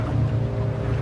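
Steady low engine drone of large ocean liners and ships, heard as a continuous deep rumble with a constant hum, loud and unbroken with no voices.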